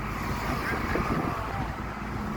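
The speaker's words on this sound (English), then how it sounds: "this bus beside us is very loud" A loud bus runs alongside on a City of London street, its engine and road rumble forming a steady, dense roar that fills the whole stretch at close range amid general traffic noise.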